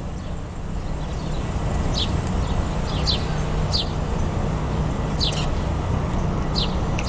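Birds chirp in short, sharp bursts at irregular intervals, faint against a steady outdoor traffic rumble.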